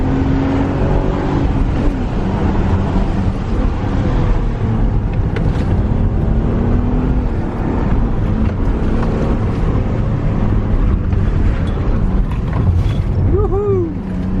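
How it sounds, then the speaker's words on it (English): A BMW E36 323ti Compact's inline-six engine while driving: a loud, continuous engine drone with rising and falling pitch, heard from inside the car alongside road and wind noise. "Did you hear the sound of the inline 6,"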